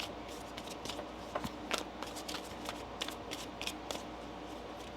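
Deck of tarot cards shuffled by hand, a steady series of crisp papery slides and soft snaps spread over several seconds, close and moderately quiet.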